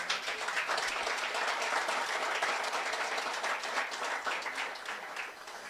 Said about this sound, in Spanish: Podemos darle un aplauso, ¿no?, al Señor.